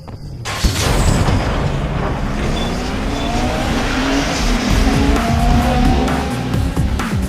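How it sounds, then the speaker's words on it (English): Race cars in Need For Speed Underground 2 roar past in a steady, loud engine drone, with tire squeals and skids sliding over the continuous rumble, close up and without talk. "There are like 8 cars driving in."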